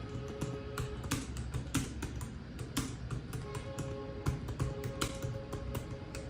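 A computer keyboard clatters with steady quick keystrokes in a run of close, crisp taps. Someone is typing a book title into a search field, and no one speaks.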